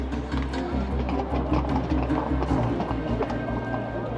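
Rapid clip-clop of a French Republican Guard horse's hooves on hard ground, steady and close, with a murmur of crowd noise behind.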